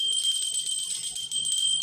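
A small hand bell rings steadily throughout a home prayer, its bright metallic tone sustained and close, with faint low household sounds beneath.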